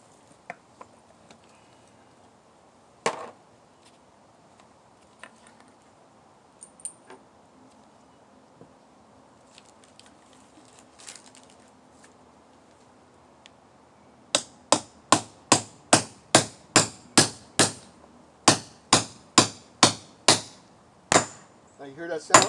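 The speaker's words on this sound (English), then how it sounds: "You're going to take your driver, lay it on top of there, and then you're going to hammer that down until it stops." A hammer strikes a driver to seat a trailer wheel bearing race, a rapid series of sharp metallic bangs arriving in two bursts after a quiet stretch with a few scattered knocks.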